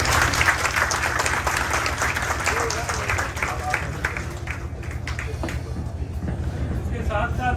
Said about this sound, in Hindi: आपकी तालियों का साथ चाहिए होगा सर